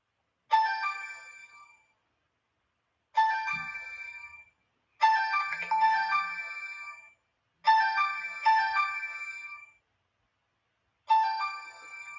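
A phone ringtone plays as several separate ringing bursts, each with a bright, harmonic electronic tone. The rings come in a steady stop-start pattern with short silent gaps between them, and no voices are heard.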